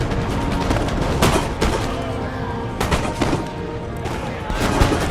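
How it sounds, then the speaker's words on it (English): Massed musket volleys crack across a battlefield in Empire: Total War, British and American lines firing in repeated rolling bursts at roughly steady intervals, loud and dense over a continuous din of battle. "the battle is going to basically become two mass volleys"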